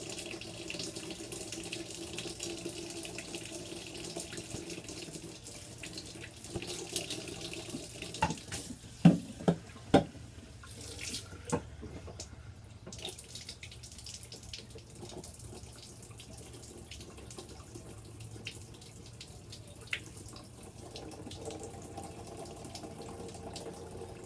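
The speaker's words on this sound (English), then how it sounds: "fill it with hot water, shake it up, dump it out, and do that 2 or 3 times" Hot water running from a tap into a glass rig, which is then shaken and dumped out; a steady close stream with gurgling and sloshing, a few sharp knocks midway, and no talking.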